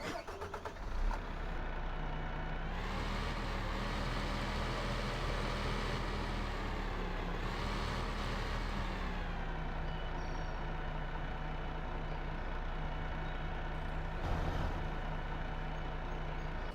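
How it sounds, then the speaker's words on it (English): A truck engine drives in the video game Farming Simulator 15 on the Westbridge Hills map, a loud, steady close-up drone that rises and falls in pitch as it revs for several seconds. "I'll go pull the truck over here."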